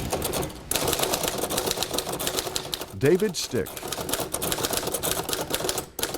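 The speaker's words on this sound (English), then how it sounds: "He pecks at an old typewriter" Keys of an old typewriter are tapped in a steady stream of close, dry clicks throughout, while someone speaks over the typing.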